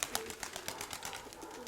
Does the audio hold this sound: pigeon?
yes